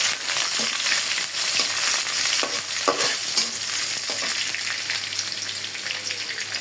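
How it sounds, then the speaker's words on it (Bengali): Onion, bay leaf, cinnamon and cardamom frying in hot oil, a dense close sizzle with a few louder crackles and the scrape of stirring, no voices. "এখানে দিয়ে দিলাম পেঁয়াজ তেজপাতা দারুচিনি ও এলাচ"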